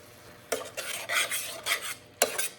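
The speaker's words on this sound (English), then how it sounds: "Now this is sauce I had left over from yesterday's pizza. Actually, it's a marinara, but it will be really wonderful in our dish. I'm going to mix that in." A spoon scrapes and stirs leftover marinara sauce into a dish in a home kitchen, with several close, wet, rasping strokes in short bursts and nothing else heard.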